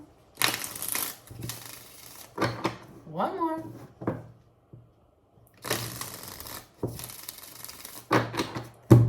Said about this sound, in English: Shuffling for Scorpio.